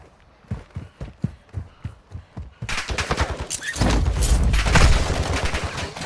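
Rapid gunfire from bots in Call of Duty: Warzone 2 cracks in a run of single shots, then swells into dense, continuous automatic fire with heavy low booms, loud and close.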